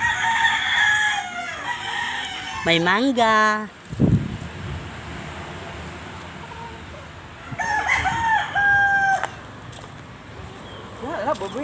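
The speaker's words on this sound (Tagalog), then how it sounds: "Ang daming manok." Roosters crow loudly and nearby on a provincial farm, one long crow early and another later, over windy outdoor noise and people talking.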